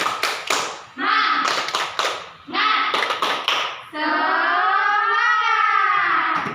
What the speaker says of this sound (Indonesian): mari kita tepuk semangat bersama-sama